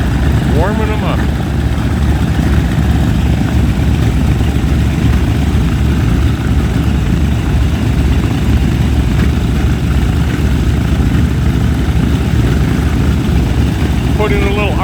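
Steady, loud drone of a B-25 Mitchell bomber's piston engines warming up and running under light RPM load, a continuous low throbbing rumble with voices talking over it.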